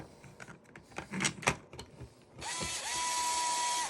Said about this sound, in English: You can screw that into the side post